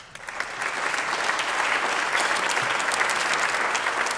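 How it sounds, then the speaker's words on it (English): Applause from the audience at a 2022 small business recognition awards event builds quickly and holds as dense, even clapping from a sizeable crowd. "Give him a round of applause."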